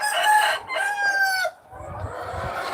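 Chickens kept by farmers crowing and clucking nearby: a rooster's drawn-out crow over the first second and a half, then a steady run of lower clucks and scratching, with no voices.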